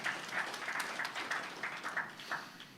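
Applause for Jesus rises from a church congregation during a sermon, with a short stretch of dense, moderately distant clapping fading slightly at the end.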